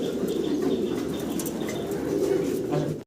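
German Beauty Homer pigeons in a loft, with a steady dense murmur of cooing from many birds and occasional wing flaps, continuous and fairly close throughout.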